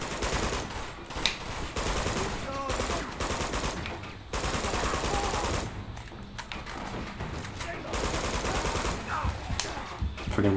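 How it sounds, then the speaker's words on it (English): Rapid bursts of machine gun turret fire in Uncharted 2 rattle loudly and almost continuously, with dense overlapping shots and brief pauses between volleys, while a voice talks underneath. "Freaking machine gun turret."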